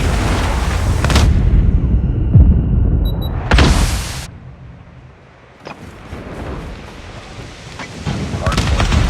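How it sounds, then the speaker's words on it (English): Predator missile strikes explode in Call of Duty Mobile, loud broadband booms at about one, three and a half seconds, with a lull and further rumbling blasts and gunfire later, layered over game noise. "Hostile Predator missile inbound."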